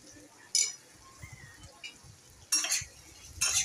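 Prawn curry with salt, chilli powder and spices is stirred in a pan, soft scraping under quiet background sound, broken by three sharp metallic clinks of the spoon against the pan.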